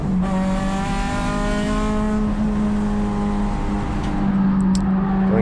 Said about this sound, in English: You can hear the tires in the front scrubbing when I'm trying to either get on the power or trail brake it into a corner.